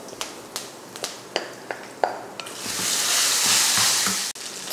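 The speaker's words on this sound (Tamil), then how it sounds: "வேர்க்கடலை சேர்த்தப்போ கொஞ்சம் பெருங்காயத்தூள் சேர்த்துட்டு வதக்கி விட்டுலாம். இப்போ இதில் சாதம் போட்டுடலாம்." Rice stir-fried with peanuts and asafoetida in a pan starts with a run of sharp clicks and taps. A loud, hissing sizzle then swells up and holds steady before one abrupt knock near the end.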